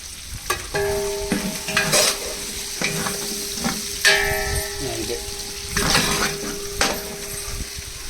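Green chilies and curry leaves frying in oil for a Rajasthani turmeric curry, with close, steady sizzling broken by repeated scraping stirs and a few clinks of a utensil against the pan.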